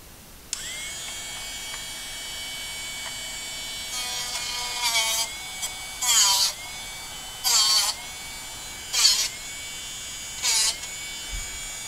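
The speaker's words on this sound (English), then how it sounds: "and then let's start sharpening" A Darex Drill Doctor 750X sharpening a drill bit: a steady high motor whine with about six short grinding bursts at regular intervals as the bit is turned against the wheel, close and loud, with no talking.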